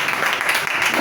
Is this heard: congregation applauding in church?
yes